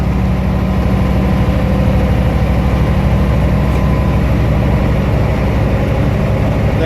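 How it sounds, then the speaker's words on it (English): A truck engine raised to higher RPM during an in-cab air brake inspection, a steady, loud low diesel drone with a throbbing rhythm and no pauses. "I'm going to raise my RPMs."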